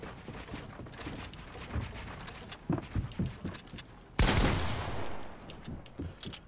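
Gunfire in a FaZe 1v1 video game match: a sudden loud shot blast with a decaying tail, preceded by softer clicks and footstep-like taps in the game.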